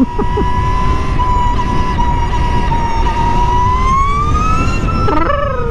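An Energica electric motorcycle runs with a loud, steady high-pitched motor whine that holds level and then climbs briefly near the end, close and continuous with no talking.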